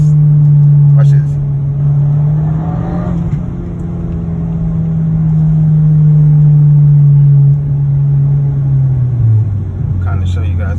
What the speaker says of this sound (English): I just barely touched the gas